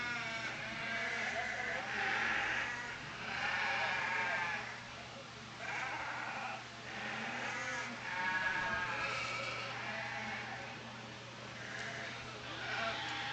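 Dorper ewe lambs bleat again and again in a show ring at a Texas Hill Country Dorper association show, the bleats fairly faint over a low, steady hum.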